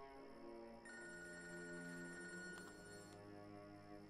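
A mobile phone rings with an incoming call in a Tamil film, a steady, continuous electronic ring tone held over a background score and lasting the full few seconds with no talking.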